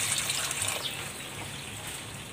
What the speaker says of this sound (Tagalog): Maglalagay din ako ng konting tubig.